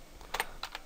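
A short burst of typing on a computer keyboard while entering server network settings, with a few quick, soft clicks close by in a quiet room.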